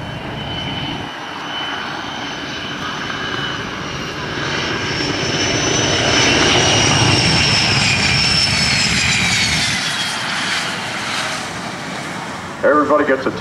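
F-16 and A-10 jets land in formation at the 2006 Westfield International Airshow, a loud sustained engine roar and whine that swells through the middle and eases off, with distant crowd ambience underneath.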